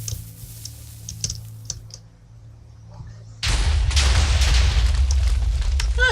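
A Minecraft house blown up, with a sudden loud, sustained roar of explosion and burning that cuts in midway, after a stretch of quiet keyboard typing.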